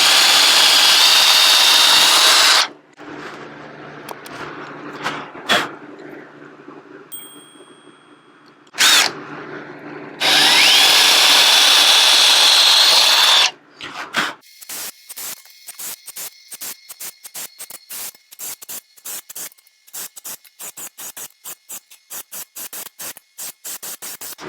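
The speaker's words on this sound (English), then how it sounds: "let's go ahead and get them pre-drilled" A power drill pre-drills screw holes in 2x4 lumber for a large rolling table, loud high whining bursts of several seconds separated by pauses, followed by rapid stuttering on-off pulses of the motor.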